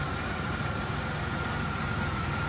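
The engine of a 1991 Buick Reatta idles smoothly, a steady, even low rumble with a faint hiss, close by and without talk.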